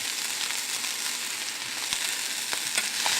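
Chopped food frying in a pan is stirred, giving a steady bright sizzle broken by a few soft scraping clicks, close and with no voices.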